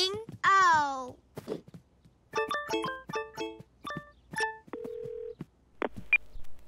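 Telephone keypad tones in a children's cartoon ring out as a quick series of short electronic beeps after a voice and a sung sound, followed by a brief steady tone.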